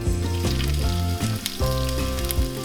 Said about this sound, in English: We're just gonna saute this for about 30 seconds.